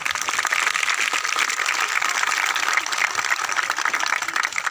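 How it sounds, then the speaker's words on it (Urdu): An audience claps together in a steady, dense patter that holds evenly throughout, moderately loud and slightly distant, with no talking over it. "ہم ایڈوانس میں اس کے لیے تالیاں مارتے ہیں"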